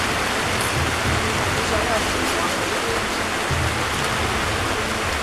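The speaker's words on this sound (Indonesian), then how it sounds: "Hujan, guys." Steady rain falls outdoors at a community youth group gathering, a dense continuous hiss with low rumbling underneath, with no voices standing out over it.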